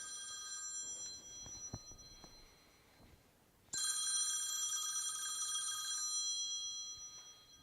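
A telephone rings with an incoming spam call, its bright electronic trill sounding twice, faint at first and then loud and close for several seconds, with light clatter in the background.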